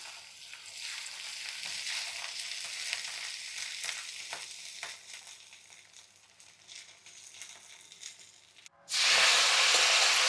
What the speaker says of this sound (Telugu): ఈ మిగతా నూనెలో కొంచెం కొంచెం కొద్దిగా ఉంచాను గోంగూర బాగా మగ్గబెడదాం నూనెలో బాగా మగ్గాలి